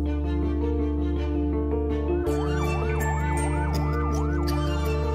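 An ambulance siren wails loudly and close, shifting from one tone pattern into a fast rising-and-falling yelp over a steady engine drone, with no talking.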